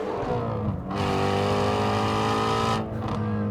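A Ford Shelby GT350R Mustang's engine roars loudly and steadily up close, a dense, rich exhaust note that briefly dips twice before surging back to full volume.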